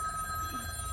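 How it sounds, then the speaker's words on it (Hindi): A mobile phone rings with a steady electronic tone over low background noise during a short comedy sketch scene. "बार बार घंटी बज रहा है मोबाइल में"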